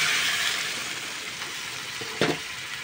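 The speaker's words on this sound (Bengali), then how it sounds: "এবার আমি হালকা গরম জল দিয়ে দিচ্ছি।" Warm water poured into a pan of frying ghagra fish head curry, a steady hiss and sizzle with a short splashing burst near the end.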